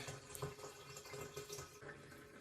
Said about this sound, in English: Okay, then the water should be coming out.